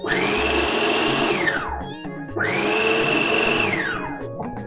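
A kitchen blender pulses through chopped okra in two loud bursts, each whirring motor rising in pitch and then winding down, with a brief pause between them and a voice speaking near the end.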